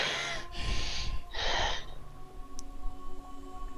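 A voice imitates a badly wounded creature breathing heavily: two loud, ragged snorting breaths close up, followed by quieter rasping.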